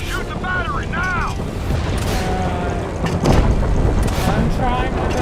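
Surface-to-air missiles fire and detonate in a video game battle, with deep booms and rumbling blasts that swell loudest toward the end, mixed with a tonal whine and other game noise.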